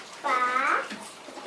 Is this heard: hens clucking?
no